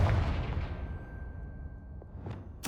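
Confringo fire spell in Hogwarts Legacy bursts with a heavy booming blast that rumbles and fades over two seconds, followed by a sharp crackle at the end.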